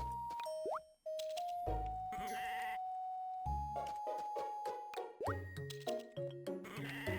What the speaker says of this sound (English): Alright, time to shear my sheep.